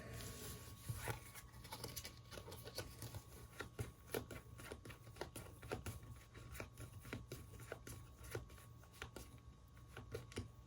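Board game cards for Bardsung's marching order are shuffled by hand on a table: quiet, repeated riffling and snapping clicks in irregular bursts over about ten seconds, with a faint background hum.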